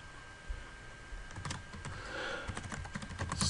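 Close, fairly quiet keystrokes on a computer keyboard, typing a remote backup path on a CentOS 7 Linux system, tapping in quick irregular bursts that grow busier toward the end with no voice.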